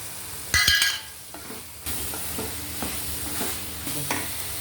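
Beans, carrots and peas being stirred and fried in a pot for vegetable biryani, a soft sizzle under a few scraping stirs and one clattering utensil knock, fairly close.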